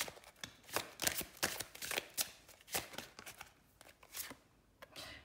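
Tarot-style cards shuffled by hand during a card reading, heard as a close, quiet series of irregular papery riffles and slaps with brief pauses between, no talking.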